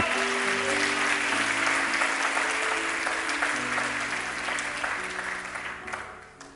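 A church congregation applauds during a sermon: dense, steady clapping from many hands fills the room, with a faint sustained organ or keyboard chord underneath, gradually thinning and fading toward the end.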